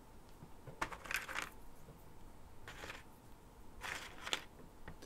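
Quiet clinks and jingles of metal board-game coins being picked up and dropped on a table in a few short bursts, with soft handling noise between them and no talk.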